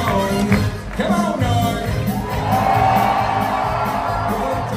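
A big show crowd at the Dolly Parton Stampede dinner theater in Pigeon Forge, Tennessee screams and cheers loudly, a sustained roar of yelling and whooping voices over a pounding music bed.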